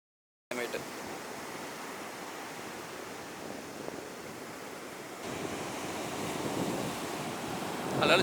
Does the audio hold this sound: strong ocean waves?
yes